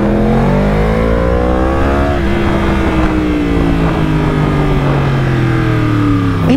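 Yamaha R1 superbike engine revving hard through rising and falling gear pulls, a loud continuous near roar with climbing harmonic whine and brief shifts, no talk.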